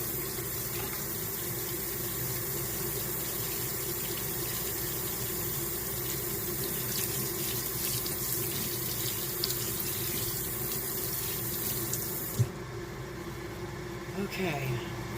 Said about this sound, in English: let me wash my hands very quickly